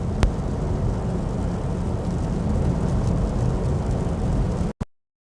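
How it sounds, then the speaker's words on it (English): Steady rain pounds a Volvo EX30 Twin Performance Ultra while it is driven on a long road trip, a dense continuous roar of drops and road noise with one sharp tap near the start, cutting off abruptly at the end. "it's still raining"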